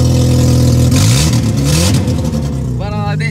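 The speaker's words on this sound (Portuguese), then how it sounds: "ó o barulho do carro." A Chevrolet Celta car engine revs loudly and steadily close by, rising in pitch and falling back, while a person talks over it.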